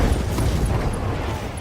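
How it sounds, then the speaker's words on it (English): A mech blown apart by an ammunition explosion in a video game, heard as a sustained, dense low rumble that fills the whole stretch at steady loudness with no talk over it. "The ammo explosion just took everything out."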